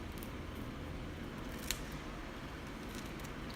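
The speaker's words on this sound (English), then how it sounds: "Time to grab your scissors and just cut right through." A few faint, brief snips of scissors cutting through pothos plant roots during repotting, close by, over steady background noise.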